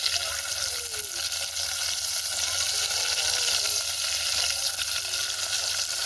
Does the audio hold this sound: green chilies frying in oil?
yes